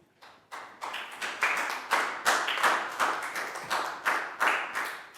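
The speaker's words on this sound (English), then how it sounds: "big round of applause for everyone" A group of Year 4 pupils in a maths class claps in rhythmic bursts, each swell of applause rising and fading in a regular pulse, fairly close, with no talking.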